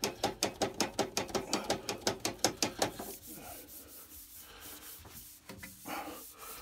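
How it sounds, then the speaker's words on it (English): A cloth is rubbed briskly back and forth across the bed of a Triton TPT125 thicknesser in about fifteen quick, even, close strokes, followed by a few slower, softer wipes. "Let's give it a wipe. Get that bed really clean."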